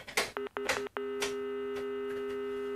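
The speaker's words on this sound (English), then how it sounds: "even the dial tone sounds different" Steady electronic dial tone from an all-digital Telstar Call Control System answering machine, preceded by a few short beeps, then a continuous tone that carries on alone and clearly.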